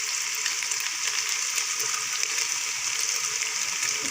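Eggs and vegetables for egg noodles fry in a pan, giving a steady, dense, hissing sizzle that holds evenly throughout without pause or voices.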